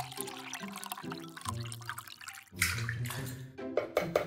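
Organic unsweetened coconut milk pours into a blender in short gurgling bursts, then a fuller splashing pour, close and moderately loud, with no talking.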